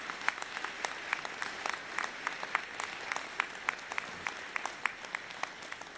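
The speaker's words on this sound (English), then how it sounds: "Let's give them a round of applause." An audience at a university commencement ceremony applauds in a large hall, a steady patter of many hands with a few sharper individual claps standing out, fairly quiet and distant throughout.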